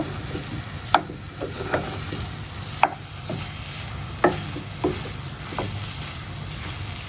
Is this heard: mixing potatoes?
yes